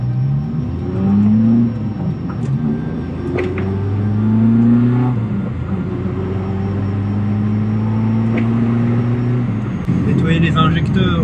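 Engine hum inside a moving car, a low steady drone that rises and falls gently as the driver accelerates and eases off, with a brief rattle near the end.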